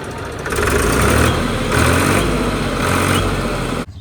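A tractor stuck in mud at a cattle shelter, its engine running steadily with a low rumble that swells and eases in slow pulses, close and loud, then cutting off abruptly at the end.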